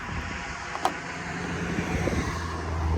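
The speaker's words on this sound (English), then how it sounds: "Sorry about the car noise, I'm right by the road here." Steady roar of cars passing on a nearby road, a constant whooshing traffic wash with some wind noise, heard roadside.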